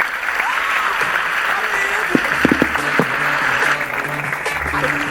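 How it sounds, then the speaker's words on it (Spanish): Steady applause from a seated audience at a science innovation day talk, a dense even patter lasting throughout with a few sharper claps and a faint voice or tone underneath. "Le damos un fuerte aplauso a Karen Holmark"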